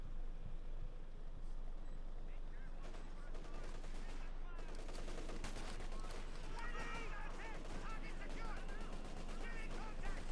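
Bren guns and MG34 machine guns firing in the video game Company of Heroes 2, dense overlapping bursts and shots in continuous battle noise with vehicle rumble, loud throughout.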